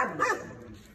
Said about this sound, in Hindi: देखना डॉग आ गया हुआ है और इसका रिएक्शन देख रहे हो